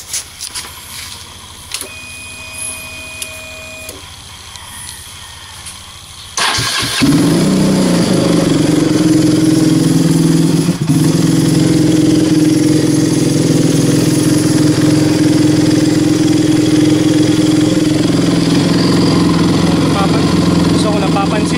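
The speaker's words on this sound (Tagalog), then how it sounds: "So, ito yung andar ng kanyang motor." KTM RC 200 motorcycle with an oxygen sensor fault starts up and settles into a loud, steady idle held at high revs, a continuous close engine drone after a few seconds of quiet room sound, with a voice talking over it.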